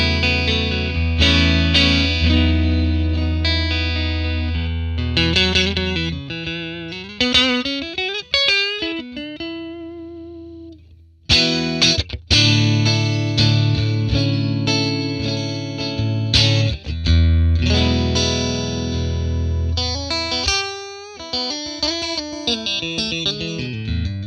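Fender Stratocaster on its neck pickup played through a 1957 Tweed Bassman amp model, giving bright, chimey clean-to-crunchy chords and single-note lines with some ambience, continuous and loud with a brief pause midway.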